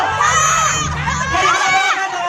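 A crowd of voices shouts and cheers together in Filipino in a loud, rousing battle cry that rises and falls throughout, at Las Casas Filipinas de Acuzar.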